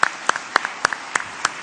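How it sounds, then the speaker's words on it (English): Sparse, sharp claps repeat at a steady pace, a few hands applauding rather than a full crowd, moderately loud and close. "Let's give them a round of applause, please."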